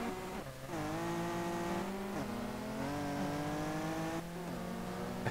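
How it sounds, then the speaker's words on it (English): A racing car engine in the video game Street Legal Racing Redline revs and shifts through gears, rising and falling tones with a sharp pop near the end, loud and continuous. "Oh, he has some backfiring."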